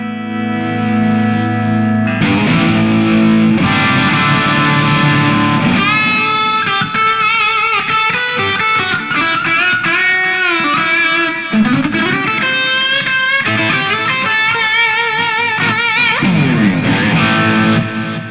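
Electric guitar played through a Donner Arena 2000 multi-effects unit, shifting from clean chords to a boosted lead tone, with sustained notes and runs carrying echo and reverb, loud and close.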